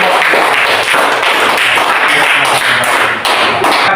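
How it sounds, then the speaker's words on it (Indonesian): Applause for a student group in a classroom: dense, close, continuous clapping from many hands that keeps going without a break. "mari kita berikan aplaus untuk kelompok"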